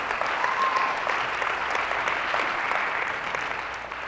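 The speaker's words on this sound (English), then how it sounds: "let's give them a round of applause for just what they do." A crowd at a motivational speaking tour event claps in a dense, continuous round of applause, loud and even across the whole stretch with no voices standing out.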